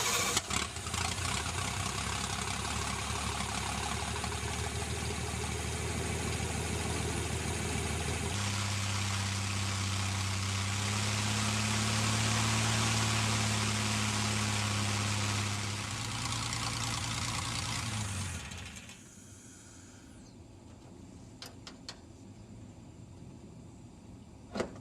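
A homebuilt light aircraft engine, likely a Sonex, cranks and starts, then runs in a loud, steady idle with a droning tone that drops off near the end, leaving faint clicks and no talk.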